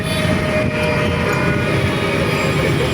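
A train rumbles steadily past at close range, a continuous low roar with a faint high whine above it, with no voices.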